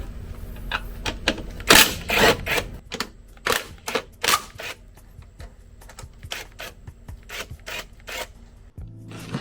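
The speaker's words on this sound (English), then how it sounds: "If you're wondering where I got the impact wrench from" Impact wrench removing bolts from a 10th-generation Honda Civic, rattling in irregular short bursts of hammering with pauses between them, close and fairly loud.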